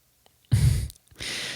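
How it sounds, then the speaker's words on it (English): Two heavy, breathy snore-like exhales from a dog close by, the first louder and rougher, separated by a short pause in an otherwise quiet house at night. "just noises of a noisy house late at night with your dog snoring"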